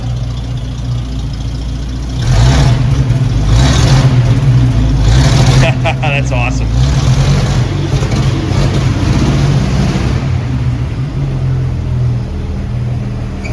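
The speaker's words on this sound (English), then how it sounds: "And okay, rev it up now. You can hear the change. It's a little bit louder." A 1930 DeSoto roadster engine idles and then revs up, growing louder and rougher for several seconds before settling back, with brief speech over it.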